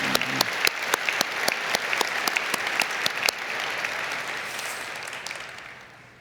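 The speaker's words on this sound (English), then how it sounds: "please, a round of applause for the committee who has put this program together" Applause from an audience at the WPC 2026 opening ceremony for the program committee, with sharp separate claps over a dense clapping wash that thins and fades out over about six seconds.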